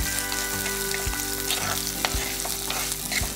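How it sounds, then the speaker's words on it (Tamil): Chopped onions with green chillies sizzle and fry in a pan for a dried-fish curry, a loud steady crackle broken by periodic scrapes and stirs of a spoon. "வெங்காயம் சேர்த்துட்டு நல்லா வதக்கிடலாம்."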